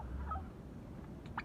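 A chicken kept outdoors in extreme winter cold gives a brief, faint cluck or two over a low background rumble, with a slightly sharper call right at the end.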